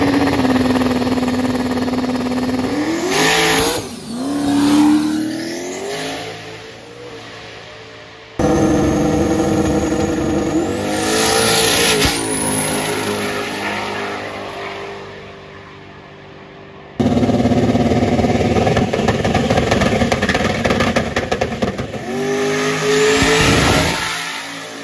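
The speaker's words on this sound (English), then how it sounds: "So these cars ought to be rolling." Race cars at an outlaw racing gathering, engines revving hard and accelerating past with rising and falling pitch sweeps and tire squeal, loud and close, in several separate passes.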